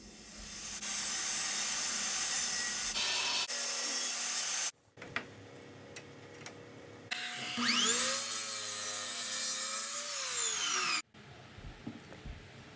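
Old barn wood pieces are cut and planed to size for a keepsake box, with bursts of close, loud rasping saw and power tool noise separated by brief pauses, and no talk.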